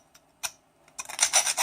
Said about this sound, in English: so I'm going to sand it a little.